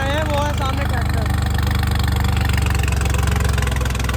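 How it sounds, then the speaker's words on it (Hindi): Tractor stuck in marshy mud beside the Ganges, its engine chugging in a steady, loud, close-up rhythm throughout, with a voice heard briefly at the start. "साथ के कुछ भाइयों का ट्रैक्टर फंस गया है गंगा जी पे"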